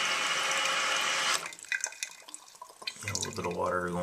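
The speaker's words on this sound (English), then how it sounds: "A little bit of water going over the overflow tube there." Water from a Mansfield toilet tank, nearly full, trickles over the overflow tube. It is a soft, steady close-up flow with small drips, and a voice is heard briefly.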